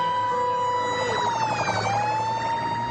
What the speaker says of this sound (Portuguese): Ele ouviu a sirene e saiu rápido para liberar o trânsito.